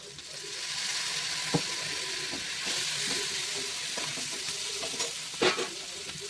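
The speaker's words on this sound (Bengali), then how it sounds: "চিলি বানানোর জন্য এখানে 1 চামচের মতন আমি সয়া সস দেবো।" Soy sauce hitting a sizzling chili stir-fry in a pan: a constant hiss that swells into a louder crackling burst, with scattered spoon scrapes and clatters, close to the pan and moderately loud, without any voices.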